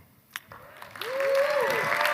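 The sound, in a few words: audience applause after a speech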